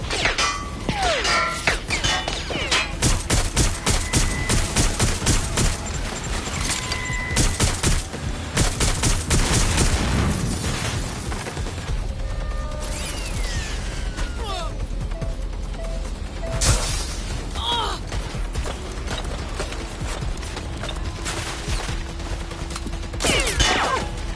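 Sustained gunfire in the video game Watch Dogs Legion, rapid dense volleys of shots with crashes and impacts, loud and nearly continuous, with voices speaking at points.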